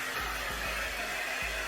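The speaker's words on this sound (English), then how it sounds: "I have my blow dryer next to me." A handheld blow dryer aimed at half of the face during a chemical peel gives a steady, close, continuous airy rush with no talking.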